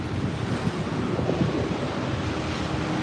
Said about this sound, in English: Ooh, it's a little windy